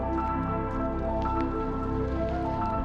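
Light rain dripping steadily outdoors at a state park, a faint continuous patter of small drops with no voices.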